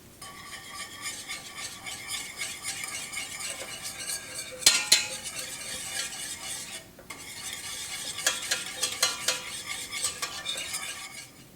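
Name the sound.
stirring butter and sugar in a pot on the stove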